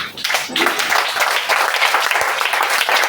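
A church congregation applauding and cheering, loud continuous clapping with voices calling out across the room.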